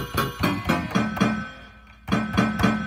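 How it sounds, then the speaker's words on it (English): A punchy, short synth sample from Beatmaker 3 plays as a rhythmic run of tight, percussive hits. It pauses briefly in the middle, then picks up again, with no voices. "it sounds like this, which is basically just a punchy, short transient synth sound"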